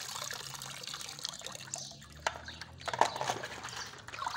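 Water sloshes and trickles in a toy car wash, with soft close splashes and a few brighter drips standing out near the end.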